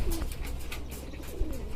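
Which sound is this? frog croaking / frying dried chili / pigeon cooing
pigeon cooing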